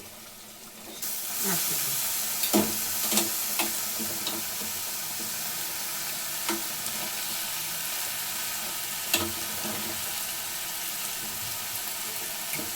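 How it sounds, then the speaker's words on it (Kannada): Water poured into a hot sizzling tempering in a pan, a sudden loud burst of hissing steam and crackle that settles into a steady spitting sizzle with occasional pops and clinks, no voices. "ಈ ನೀರು ಈ ಥರ ಬಗ್ಗಿಸ್ಕೊಂಡು ಈ ಥರ ಹಾಕಿ ಒಗ್ಗರಣೆಗೆ ಹಾಕ್ಬೋದು"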